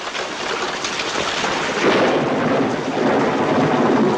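A loud, continuous rumble of thunder rolling over a hiss of heavy rain, swelling slightly partway through.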